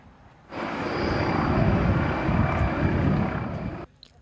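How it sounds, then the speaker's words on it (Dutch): Police helicopter flying over a search operation for a missing young woman in Schilde, Belgium, a steady broadband rotor and engine roar rising in after half a second, holding loud and constant for about three seconds, then cutting off abruptly. "De politie voert een georganiseerde zoekactie uit naar Julie van Espen. Ze zetten speurhonden en een helikopter in."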